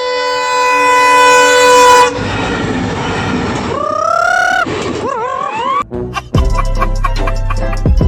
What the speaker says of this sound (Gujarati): બીજી ટ્રેન આવી ગઈ